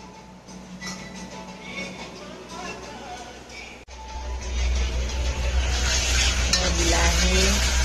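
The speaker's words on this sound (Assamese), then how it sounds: "বিলাহী ভাজি আছে পূৰা" Tomatoes fry in a pan and are stirred with a utensil, with soft scraping under voices at first, then a loud, continuous sizzle swells up close for the second half.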